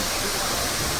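Steady roaring rush of the Cascada Rio de los Cocos waterfall in Samaná, Dominican Republic, a dense broadband wash of falling water, loud and constant with no other sounds.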